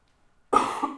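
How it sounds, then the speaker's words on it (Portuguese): A single short cough rings out abruptly after a moment of silence, close and fairly clear, with no talking around it. "tô com a tosse aqui"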